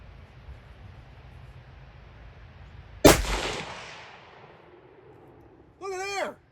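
A single sharp rifle shot cracks out loud over an Athlon RangeCraft chronograph, followed by a long fading echo rolling away across open ground, then a brief warbling tone near the end.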